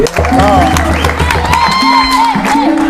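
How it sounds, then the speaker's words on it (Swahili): Audience at the National Theatre applauding and cheering, a dense crowd roar with scattered whoops, loud and continuous beneath a sustained musical tone. "Wapi makofi bwana?"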